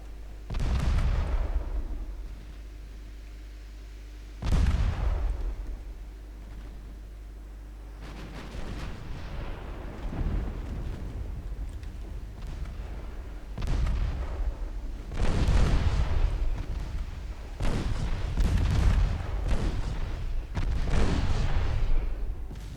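Naval guns fire high-explosive shells in the Ultimate Admiral Dreadnoughts warship game, a series of heavy booming blasts, some single, some in quick clusters, with rumbling tails between them and no speech.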